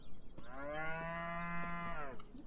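A cow in the video game Beyond Eyes lets out a single clear, drawn-out moo lasting about a second and a half. It sounds alone over faint background noise, with no talking.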